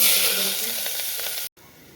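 A loud, close sizzle of onions frying in hot oil with asafoetida and light stirring, cut off abruptly before a quieter tail.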